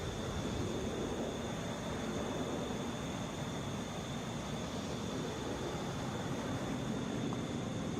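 A Delta Boeing 717 airliner at Atlanta International Airport produces a continuous broad roar, steady and fairly distant, with no voices.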